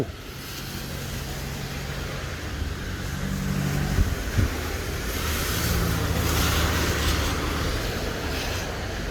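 A tow truck hauls a car with front-end damage, its engine and road noise forming a steady, close, loud rumble that swells slightly midway, with no voices.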